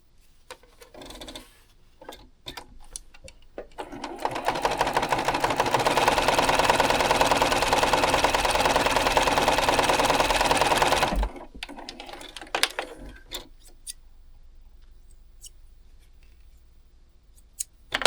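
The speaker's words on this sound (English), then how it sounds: "Now then we'll sew this pink to this green." A sewing machine runs in one long steady burst, joining pink and green quilt block pieces, loud and close, with scattered clicks and handling noises before and after.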